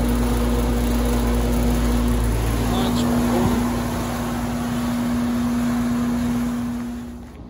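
A frosted 1998 Payne 3-ton straight-pull heat pump runs outdoors with a steady loud hum and a strong constant tonal drone, a brief clunk midway and a slight fade near the end.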